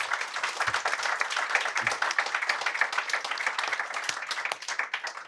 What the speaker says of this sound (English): Big round of applause for the panellists.